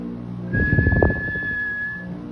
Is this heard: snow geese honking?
no